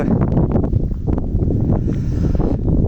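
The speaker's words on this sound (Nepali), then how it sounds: "चिसो हावा चलिरहेको छ" Cold wind blows across an outdoor spot in a Serbian village, a loud low buffeting rush against the microphone with gusty swells and some rustling, steady throughout with no voices.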